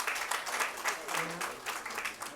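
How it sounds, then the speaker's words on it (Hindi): An audience at a Hindi poetry gathering in the Delhi Legislative Assembly applauds to welcome a poet, with uneven rhythmic surges of clapping and a voice briefly audible underneath. "जोरदार तालियों के साथ हम स्वागत करें।"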